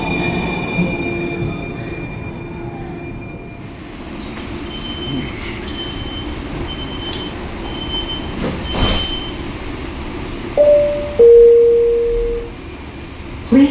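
Train moving at a station in Charlotte, North Carolina, with a steady low rolling rumble, a few faint tonal chimes, then brief rising squeals and a sustained wheel screech near the end, moderately loud and unaccompanied by speech.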